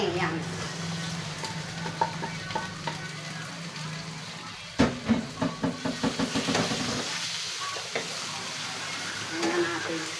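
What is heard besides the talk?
pork meat sizzling and being stirred in frying pan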